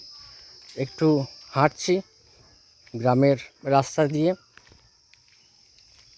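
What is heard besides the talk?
crickets chirping along a village road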